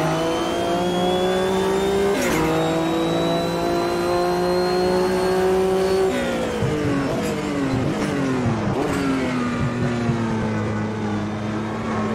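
Race car engine in the Automobilista 2 sim during a World Sportscar Championship race, a loud, sustained high-pitched drone that rises as it accelerates, drops sharply at gear shifts, then climbs again, heard up close without speech.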